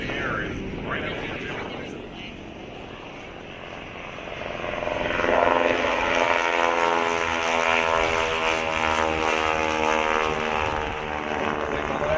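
A propeller tail-wheel airplane engine drones steadily at a car show, the La Jolla Concours d'Elegance, with a strong, continuous hum that rises slightly midway, while people talk close by over it.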